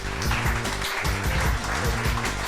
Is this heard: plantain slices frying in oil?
no